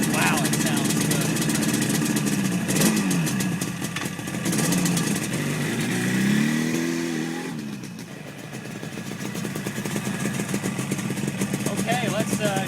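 A 1974 Yamaha RD350 motorcycle, freshly rebuilt, runs with its engine idling and revving in rising and falling swells, heard close, with people talking over it at times.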